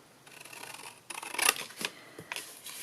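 Scissors snipping away paper scraps from a craft project, a few quiet, crisp cuts close by with short pauses between them and no voices.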